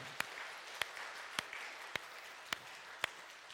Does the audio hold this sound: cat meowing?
no